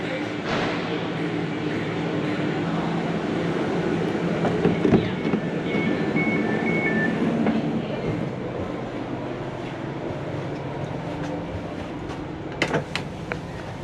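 Inside a carriage of the overnight Caledonian Sleeper, a steady rolling rumble of the moving train fills the space, with faint squeals and occasional clicks and knocks near the end.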